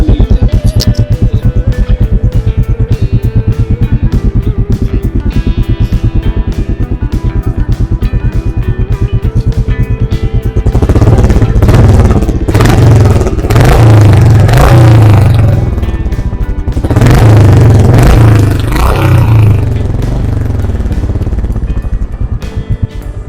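A Royal Enfield 350 single-cylinder motorcycle starts and idles with a steady loud thump, then is revved hard twice in long surging bursts before settling back, close to the microphone with no talking.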